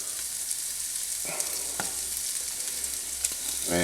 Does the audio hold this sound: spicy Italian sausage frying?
yes